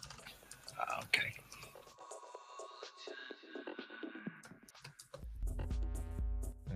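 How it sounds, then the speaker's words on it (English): Typing on a computer keyboard during a live forex day-trading session, with irregular clicky keystrokes at close range, partly under quiet whispery talk and background hum. "I wasn't sure if it was even picking up my keyboard."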